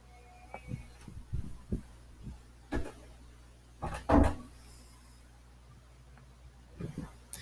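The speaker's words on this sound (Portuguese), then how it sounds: "Deixa eu só fechar aqui a porta." An indoor door at home is handled and shut, with scattered knocks and shuffles building to a single firm thud midway, then quieter handling noises.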